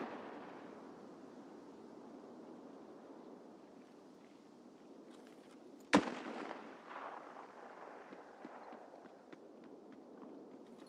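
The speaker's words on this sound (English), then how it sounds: "Somebody's throwing grenades at me." A single sharp grenade blast from the video game Escape From Tarkov cracks out loud midway through, followed by a short rumbling tail and scattered debris-like ticks over a steady low ambient hum.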